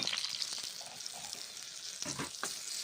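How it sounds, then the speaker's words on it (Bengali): Eggplant pieces fry in hot oil while being stirred, a steady close sizzle with scraping and clattering stirring strokes, most noticeable near the end, with no voices. "বেগুনগুলো গরম তেলের মধ্যে ছেড়ে দিলাম, তারপর ভেজে নিচ্ছি বেগুনগুলো গরম তেলের সঙ্গে নেড়ে চেড়ে।"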